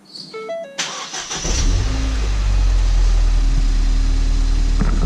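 A Ford Fiesta ST, a crashed car under repair, has its ignition chimes ring before the engine cranks and fires around 1.5 s, then settles into a loud, steady idle close by with no talking.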